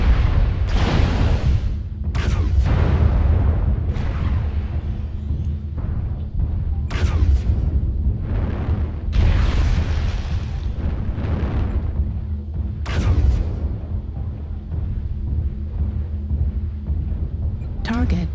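Mechs being destroyed in the MechWarrior Online video game, with repeated heavy booming explosions and bursts of weapon fire rolling one after another, loud and close under occasional game voice callouts.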